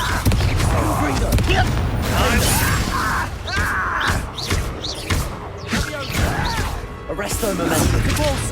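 Confringo spell blasts in the video game Hogwarts Legacy burst as loud, repeated crashing impacts amid combat clatter, with characters shouting over the fight.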